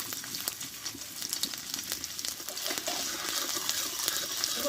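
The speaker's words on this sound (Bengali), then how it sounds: "আদাটা একটু আমি তেলে ভেজে নেবো" Chopped ginger fries in hot white oil in a wok, a steady crackling sizzle with scattered sharp pops, heard close and alone.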